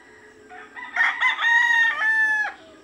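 A rooster crows loudly and close among hens, with soft clucking before and after the drawn-out crow.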